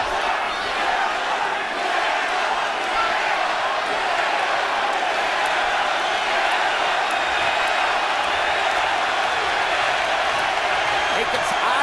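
Boxing crowd inside Madison Square Garden during a late-round heavyweight-style bout, a dense steady roar of many voices with cheering swells, continuous and loud throughout without clear individual words.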